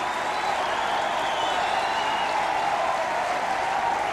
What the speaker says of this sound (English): Warm round of applause for Brendan Hill.